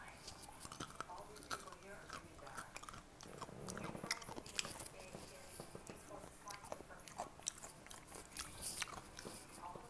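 Close, crisp crunching and biting of fried potatoes repeats steadily, with moist chewing between bites and no talking.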